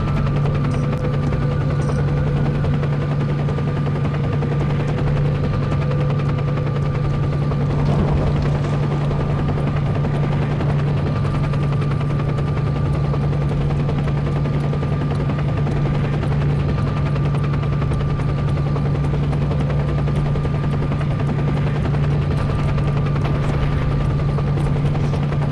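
Military helicopter from a STALKER mod in a Minecraft game, its rotor and turbine drone running steadily and loud for the whole stretch with a strong low hum, no talk over it.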